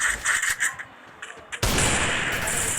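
Gunfire in a 1v1 lone wolf video game match: a sharp burst opens the clip, scattered smaller hits follow, then a loud broadband blast at the midpoint rolls into a sustained roar of noise.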